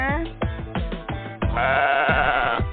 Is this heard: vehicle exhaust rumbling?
no